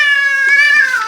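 A cat meows loudly and close up in one sustained, slightly wavering cry lasting about a second, heard alone without talking.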